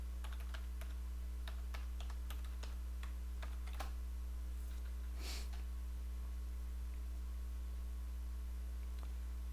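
Quiet, irregular keystrokes clatter on a computer keyboard as a username and password are typed, in short bursts with pauses between them over a low electrical hum.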